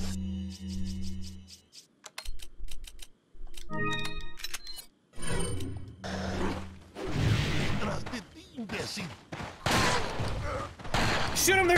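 Gunfire in the video game Resident Evil 4, with bursts of shots scattered through busy game sound, music and effects, under voices speaking.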